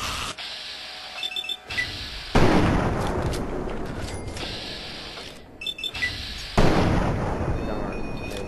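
Heavy gunfire and explosive blasts from the Fallout 3 video game erupt in loud, harsh bursts, with mechanical clatter between them and a few separate booming hits.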